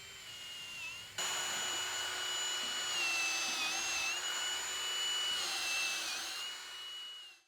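A power drill bores plug holes into a log for growing mushrooms, a steady high whine running for several seconds with slight pitch wavers, starting abruptly and fading out at the end.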